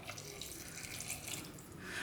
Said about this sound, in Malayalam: ഇനി ഇതിലേക്ക് നമുക്ക് 1 കപ്പ് വെള്ളം ഒഴിച്ച് കൊടുക്കാം